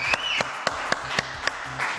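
An audience applauds for Kelly, crowned Miss JJDA 2011, with steady, fairly close clapping and a few sharper claps standing out across the whole stretch.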